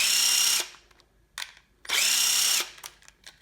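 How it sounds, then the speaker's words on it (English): A power drill backing screws out of a skeleton holster in two loud whirring bursts, each about three quarters of a second long, with small clicks and handling noise in the quiet gaps. "You're going to pull the screws out the back,"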